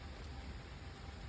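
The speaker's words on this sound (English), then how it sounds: "There's the rain." Rain falls outdoors near a beach, a steady, dense hiss of broadband patter that stays even from start to finish, with no voices.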